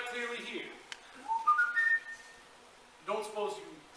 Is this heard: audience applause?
no